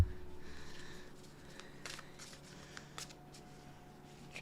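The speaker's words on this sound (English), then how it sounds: "Try to shuffle" Tarot cards being shuffled by hand, a soft papery riffling and sliding with a few sharper flicks, fairly quiet and close, no talking.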